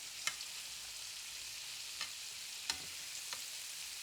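Shrimp fry in a pan and are flipped quickly, a faint, steady sizzle broken by four brief taps of a utensil against the pan, with no one speaking.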